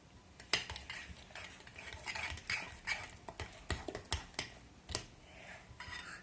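Slime stirred in a plastic pot, with wet, sticky squelches and scraping clicks repeating in an uneven rhythm, close and fairly quiet, and no talking.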